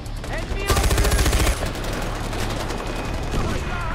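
Automatic weapon fire in the video game Far Cry 4, a rapid burst of loud shots lasting under a second, followed by continuous game ambience and scattered noise.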